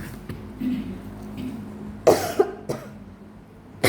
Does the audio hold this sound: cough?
yes